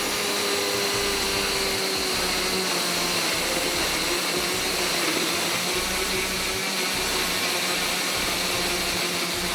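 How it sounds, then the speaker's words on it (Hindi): A kitchen blender whirring steadily as it blends cookies into a shake, loud, close and continuous with no break in the motor drone. "और अब हम इसको ब्लेंड कर लेंगे।"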